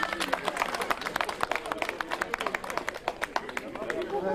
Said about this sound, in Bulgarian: за когото искам силни аплодисменти